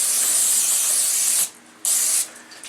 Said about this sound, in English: I use a can of olive oil spray. And I just give it a little douse here and there.